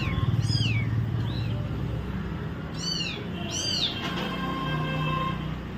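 A kitten mews repeatedly for its mother cat, high thin calls arriving in short bursts of two or three over a constant low background hum.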